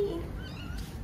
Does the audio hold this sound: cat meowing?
yes